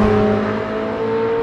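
A McLaren 765LT Spider on cold Pirelli Trofeo R tires accelerates hard with wheel spin, a loud steady engine note with a sustained tonal whine across the short burst, with no voices.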